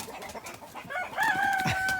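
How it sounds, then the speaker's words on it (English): A rooster crows close by in a run holding around fifty roosters, the call rising into a sustained, quavering note after a second of scratchy farmyard noise and faint clucking. "We're probably up to about 45, close to 50 roosters here in the Rooster Run"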